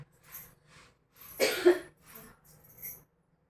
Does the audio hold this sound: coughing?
yes